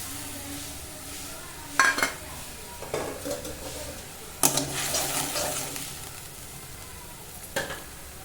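Water added to a hot cooking pan of paneer and cauliflower curry, giving a few short sizzling splashes and stirring scrapes over a low steady background, with no talk.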